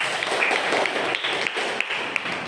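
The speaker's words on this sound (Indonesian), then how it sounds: "tepuk tangan dulu untuk kelompok kedua" Classroom applause from a group of student teachers clapping for the second group, a dense steady patter of many hands at moderate distance, with a few sharper individual claps standing out.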